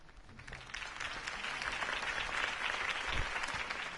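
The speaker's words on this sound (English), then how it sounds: "If only Mr. Wayne, my campaign's largest backer, could have heard that applause" Crowd applause from the Batman Telltale video game follows a campaign speech, a steady wash of clapping that swells and holds for several seconds without voices on top.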